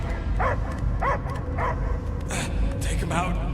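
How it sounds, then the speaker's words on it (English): A dog barks repeatedly in the action game Marvel's Guardians of the Galaxy, several sharp yipping barks spaced in an irregular rhythm over a constant rumbling game background with voices. "I hear only barking."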